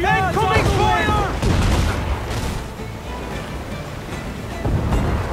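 Ship cannons fire across the ocean in Assassin's Creed IV: Black Flag, booming blasts rolling over steady crashing surf and wind, with a voice calling out near the start amid the heavy, continuous wash of sea noise.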